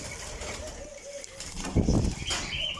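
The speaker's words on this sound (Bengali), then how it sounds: "এ হচ্ছে অস্ট্রেলিয়ান ঘুঘু" Soft cooing of Australian doves with a bit of wing flutter nearby, over a low indoor background hum; brief and moderately quiet.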